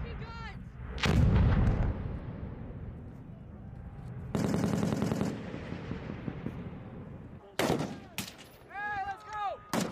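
Sustained machine gun fire on a Marine live-fire range: several loud, dense bursts of rapid shots separated by quieter gaps, with voices audible between them.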